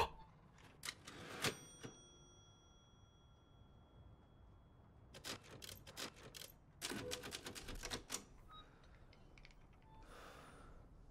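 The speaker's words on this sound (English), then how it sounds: "You actually save the game with typewriters." Typewriter keys clack at a save point in the video game Resident Evil Village, bursts of quick sharp strikes separated by a quiet pause, then a soft breathy whoosh near the end.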